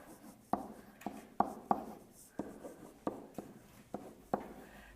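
Chalk or marker strokes on a classroom board during a math lesson tap and scratch in about a dozen short, quiet marks in an irregular rhythm, with no talking.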